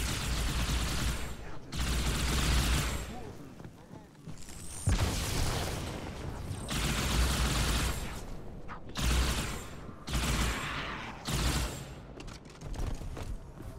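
Heavy gunfire and explosions in the Halo 2 video game, loud sustained bursts of shooting with brief pauses between volleys, close and dense throughout.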